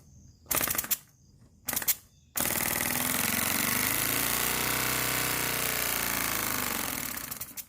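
Pneumatic Lego inline two-cylinder engine pressurized to 57 psi, two short hissing bursts of air, then it starts running with a loud, fast, steady buzzing rattle that slowly fades at the end.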